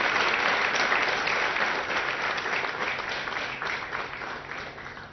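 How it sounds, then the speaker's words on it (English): Audience applause at an Apache helicopter fuselage delivery ceremony, steady dense clapping from a large crowd that slowly fades. "A big round of applause to all of you."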